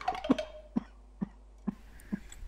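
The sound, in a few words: cough in a narrated fairy tale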